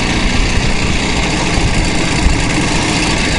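An IZh Jupiter 2 motorcycle engine running steadily while riding in fourth gear, a loud, continuous, dense rumble with no pauses, close to the microphone and with no talk over it.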